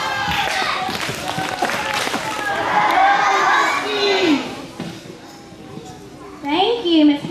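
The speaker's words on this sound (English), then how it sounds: "Let's give them a rusty cheer." Schoolchildren cheer and shout together for a kindergarten class at a school morning meeting, a loud, sustained crowd roar with a few claps that swells midway, dips, then rises again in a final burst.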